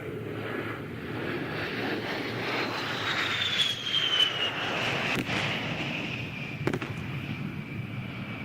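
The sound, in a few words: A-10 jet aircraft flying an airshow demo maneuver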